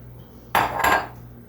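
Grated apple, grated carrot and pineapple tipped into a mixing bowl for morning glory muffins, heard as one sharp clatter then a second rattling knock of dish and utensil, close and brief against a quiet room.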